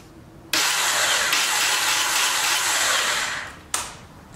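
Starter on a 2006 Honda TRX300EX ATV with a suspected fallen starter gear, whirring loudly and steadily for about three seconds without catching, then a brief second burst, close and alone.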